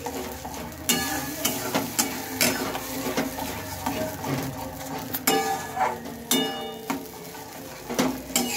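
A spice paste for orange curry is stirred in a pan, with a spoon scraping and knocking the metal in a regular rhythm of loud, close strokes over a low sizzle and no voices.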